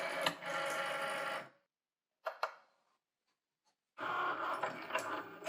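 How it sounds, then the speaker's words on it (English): A Cricut cutting machine cuts vinyl, giving a steady whirring mechanical drone with a pause and a couple of clicks in the middle, then the whirring resumes, close up. "Next, we'll load our machine and cut our vinyl."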